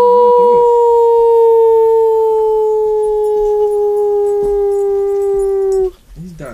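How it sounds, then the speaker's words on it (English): A dog gives one long, steady, loud howl held for several seconds at close range, then breaks off into a brief whimpering note at the end. "Come on, Cappy, howl"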